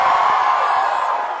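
A live audience at a bookstore reading party roars and yells, imitating a cheering Quidditch match crowd, a loud sustained wave of shouting voices that fades slightly at the end.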